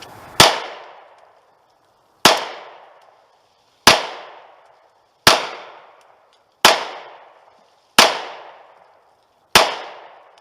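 A Remington R51 Generation 2 pistol fires seven sharp, loud shots, shot left-handed, spaced about every second and a half, each with a short decaying echo and quiet gaps between.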